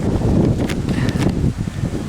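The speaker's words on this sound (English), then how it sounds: "It's really windy now, right?" Strong wind blowing across a grassy cow field, a close rushing buffet on the microphone with brief rustles and gusts over about two seconds.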